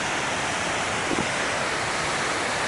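Steady, dense rush of water from a waterfall on a mountain hiking trail at high altitude, heard close and loud as a continuous roar with no voices.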